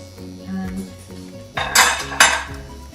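A spoon stirs chicken pot pie filling in a metal pot on the stove, scraping and clinking against the sides, with two louder metallic knocks near the end and low background hum.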